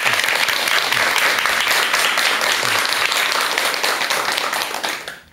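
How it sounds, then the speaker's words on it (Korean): An audience at Dr. Jeon Hyeon-su's lecture on the bodhisattva's life claps loudly and evenly, with no talk over it, until the applause fades out at the very end. "자, 그럼 지금부터 큰 박수와 함께 박사님의 강의 청해 듣도록 하겠습니다."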